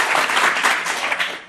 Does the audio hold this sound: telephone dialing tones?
no